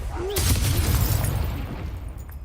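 Confringo blasting spell bursting in Hogwarts Legacy: a sudden loud boom that rolls into a rumbling, crackling blast lasting a couple of seconds, with a voice shouting over it at the start.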